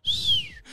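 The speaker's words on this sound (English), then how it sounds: "I can't whistle, so that was me whistling" A person whistles a short, bright note that slides gently downward and then briefly rises again, close and clear, lasting under a second.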